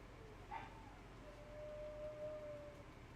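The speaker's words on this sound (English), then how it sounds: "My dogs are like howling." Faint, distant dogs howling indoors, a thin wavering drawn-out tone rising over a quiet background hum.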